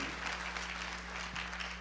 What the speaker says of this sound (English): give him a rousing round of applause, will you?